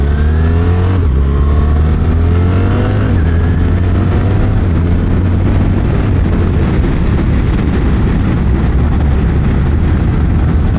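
A BMW R1300GS motorcycle accelerates hard, its engine note climbing and dropping with each gear change, loud and close over heavy wind rush.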